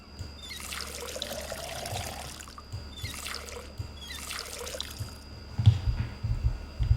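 Water pours onto a plant in the video game Schedule 1 as a soft trickling splash that comes in several short bursts. A low thump sounds near the end.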